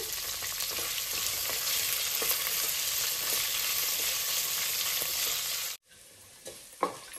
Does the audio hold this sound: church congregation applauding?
no